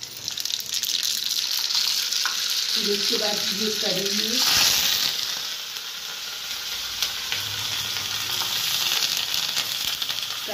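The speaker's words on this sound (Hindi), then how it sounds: "सामान फ्राई करने जा रहे हैं तो जीरा मेथी और राई का तड़का देंगे।" A tadka of cumin, fenugreek and mustard seeds fries in hot oil while making sambhar, giving a steady close sizzle with a brief louder burst of crackling partway through and a moment of quiet talk.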